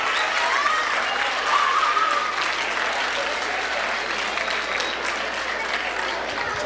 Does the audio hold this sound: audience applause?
yes